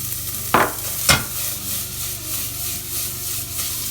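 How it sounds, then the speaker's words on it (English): Diced onions dropped into hot olive oil in a pan, with two sharp stirring scrapes early on followed by a steady, even sizzle that carries on alone. "We've got some diced onions,"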